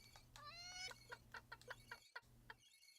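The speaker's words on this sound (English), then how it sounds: "Look at the chickens." Chickens in the video game Secrets of Grindea cluck repeatedly in short, uneven bursts, with one drawn-out squawk near the start, close and clear over a faint steady background hum.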